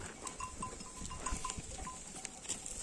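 A shepherd's flock of sheep and goats bleats faintly and intermittently from some distance over steady outdoor background noise.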